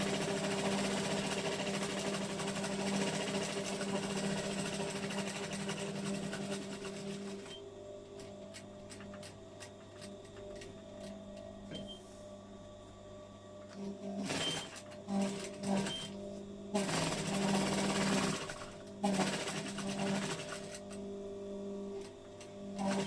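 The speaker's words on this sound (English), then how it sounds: "And then you carefully sew on all the red lines." A sewing machine stitches quilt seams along marked red lines, making a close mechanical whirring hum that runs steadily, then eases into quieter stretches with clicks and short bursts before it speeds up again, with no talking.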